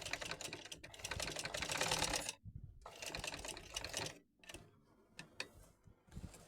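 A sewing machine stitches lace onto the edge of a saree, fast rattling runs of close needle clatter broken by short pauses and a few lone clicks, with no voices.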